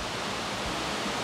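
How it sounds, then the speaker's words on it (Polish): A waterfall roars in a steady, dense hiss, moderately loud and unbroken for the brief moment, with no voices. "A oto i źródło całej tej energii. Piękny wodospad."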